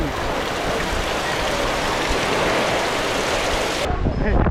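Heavy rain pours down on a Konkan market during a storm in a constant loud hiss, then cuts off abruptly near the end.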